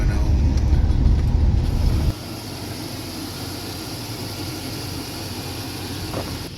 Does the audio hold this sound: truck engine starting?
yes